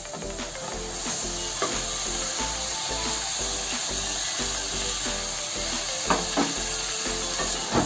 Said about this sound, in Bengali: মশলাটা আমি ভালো করে কষিয়ে নিয়েছি, এখন আমি সবজিটা ছেড়ে দিচ্ছি।